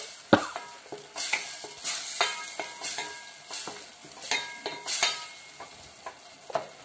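A spoon stirs yogurt frying in hot oil for egg biryani, a continuous sizzle broken by rhythmic scraping strokes against the pan roughly every half second, close and fairly quiet, with no voices.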